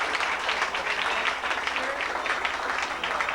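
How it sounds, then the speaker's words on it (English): An audience at a 25th high school class reunion gives steady applause, a continuous mass of clapping at moderate distance with a faint murmur of voices underneath. "we really want to give them a round of applause"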